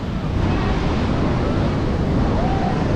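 Sea waves at Puri beach on a busy day, a loud continuous roar of surf close by with wind buffeting the microphone.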